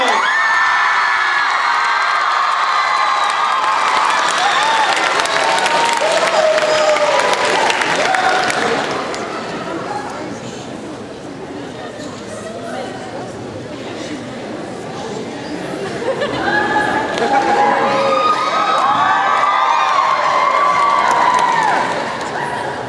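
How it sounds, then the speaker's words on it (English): A large fan-convention audience screams and cheers loudly for a character introduction, a dense roar of shrieks and whoops that dips briefly midway before swelling again, with a host's voice barely audible beneath. "I know you're going to scream whether I tell you to or not."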